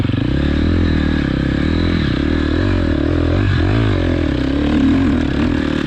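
KTM 250 XC-F motorcycle engine running close and loud for the whole stretch, a steady drone with a slight rise and fall in pitch as the throttle shifts, with no talk.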